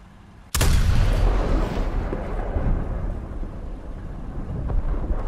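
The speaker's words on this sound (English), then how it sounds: "we gotta do an HE turret blast with the KV-2 1940" A KV-2 1940 heavy tank in War Thunder fires a high-explosive shell from its turret: one sudden loud muzzle blast followed by a long, rumbling decay that carries on for several seconds.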